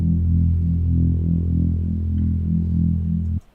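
A low synth bass note run through a Juno-style chorus effect, thick and gently wavering with a slow pulsing shimmer, sustained alone for about three seconds before cutting off.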